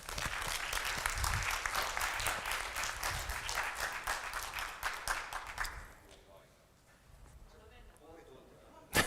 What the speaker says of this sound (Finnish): Annetaan isot aplodit Jaakko Kemppaiselle.